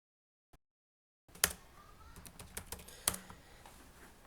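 Computer keyboard keys are tapped while entering commands into a router console. After near silence and one faint click, a quiet, uneven run of close keystrokes follows, with a couple of sharper key hits.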